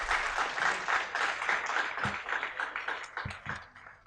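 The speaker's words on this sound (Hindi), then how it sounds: "तल्हा के लिए ज़ोरदार तालियां हो जाएं" An audience at a Hindi campus poetry event applauds to welcome a poet to the stage, a lively sustained clatter of many hands with a few sharper individual claps standing out.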